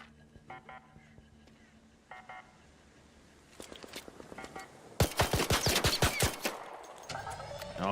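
Gunfire in a video game as a player shoots at a creature, a loud rapid burst of shots following quieter electronic beeps and game sounds.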